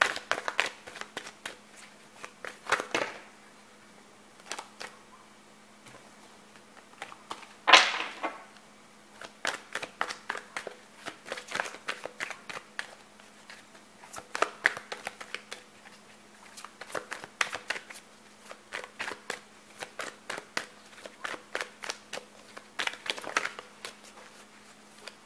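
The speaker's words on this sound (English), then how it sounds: "it was a long shuffle" Tarot cards are shuffled at length, a long run of quick riffling flutters and soft slaps that come in bursts with short pauses between them, close and fairly quiet, with no voice over them.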